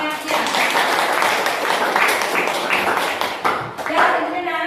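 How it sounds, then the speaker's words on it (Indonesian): Students in a university classroom clap their hands together in a steady, dense burst that carries through most of the stretch, with a voice speaking over it near the end. "Ya, tepuk tangan."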